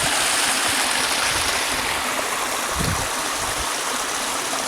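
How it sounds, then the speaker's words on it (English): Water running down into a small swimming hole up a creek, a steady close rushing trickle and splash with a brief low rumble partway through. "Not heaps of water running down, but it's still very beautiful."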